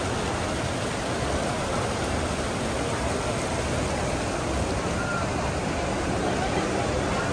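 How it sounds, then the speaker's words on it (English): Fountain waterfall at the Forum Shops, a steady, loud wash of falling water filling the space with even, unbroken roar throughout. "And then the waterfall back there, right?"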